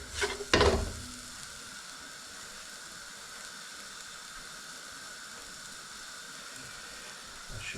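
Coriander powder, chilli powder, cumin and garam masala sizzle in a hot pan for a mushroom curry, a sharp clatter and burst of frying at the start settling into a steady, even hiss.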